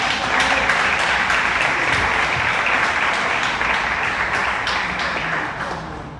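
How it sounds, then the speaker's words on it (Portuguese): A church congregation applauds during a Santa Ceia evening service, a dense, steady wash of many hands clapping at full strength that tapers slightly toward the end. "Queria que você desse uma salva de palmas ao Senhor."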